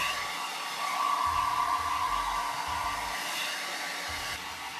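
Hair dryer blowing steadily at close range, a continuous whooshing airflow with a slight motor whine, running alone for about five seconds.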